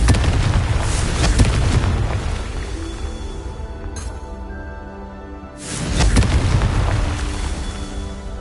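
Two big magical blasts from the Confringo spell in Hogwarts Legacy go off, each a loud booming explosion with a rumbling tail, a few seconds apart, with game ambience between them and no talk.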